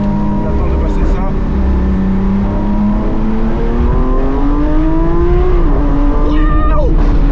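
McLaren SVJ sports car in a driving video game accelerating, a steady loud engine note rising in pitch with gear changes, continuous throughout with brief vocal exclamations near the end.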